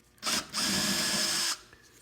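A power drill spinning a self-tapping screw in reverse out of a car transmission pan: a short whir, a brief pause, then a longer steady high motor whine for about a second before it cuts off, close and alone.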